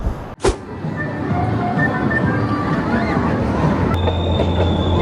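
The Pleasure Beach Express, an amusement park ride train at Blackpool Pleasure Beach, rumbles along steadily and close, its wheels squealing with high tones. A sharp burst opens the sound and a sustained whine comes in toward the end.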